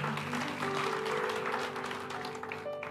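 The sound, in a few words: audience applause in church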